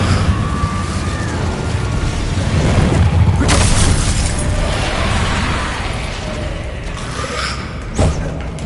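A fire spell is cast repeatedly in the Hogwarts Legacy video game amid combat, giving a dense, roaring blast that swells through the middle of the clip, followed by a sharp burst near the end. No one speaks.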